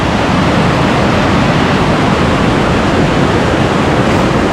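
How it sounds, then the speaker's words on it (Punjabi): A loud mountain river rushes in a dense, steady roar that fills the whole clip without any break, with no voices heard. "ਨਦੀ ਦਾ ਸ਼ੋਰ ਇੰਨਾ ਕਿ ਜ਼ਿਆਦਾ ਹੈ"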